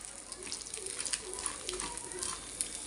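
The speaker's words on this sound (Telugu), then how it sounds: "పప్పు ఎర్రబడేదాకా వేయించాలన్నమాట దగ్గరుండి తిప్పుకుంటూ వేయించుకోండి" Chana dal frying in a pan while being stirred, giving a steady soft sizzle with light scraping and rustling, close and continuous.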